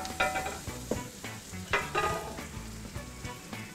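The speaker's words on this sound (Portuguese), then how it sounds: "E eu vou colocar a nossa peça direto na panela de ferro." A beef roast sears in olive oil in a cast iron pan, giving a steady close sizzle and crackle with occasional bumps and scrapes of the meat being moved.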